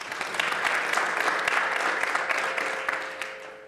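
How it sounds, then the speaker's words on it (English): An audience at a keynote event applauds, a steady wash of clapping from many hands that fills the hall and fades slightly at the end. "We can give him a round of applause."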